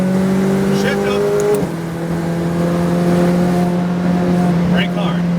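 McLaren 570 GT4 race car engine droning steadily at high revs on a track, with a brief dip around an upshift, loud and close inside the cabin; tone holds firm under the coaching.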